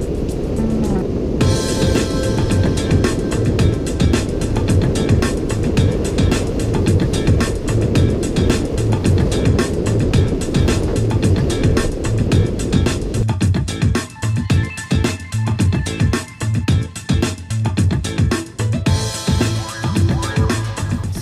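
A Yamaha Aerox 155 scooter engine, rated at 14.8 horsepower and carrying a 170-pound rider, drones steadily as it accelerates at speed, with loud wind rush throughout and a brief dip in the roar near the end.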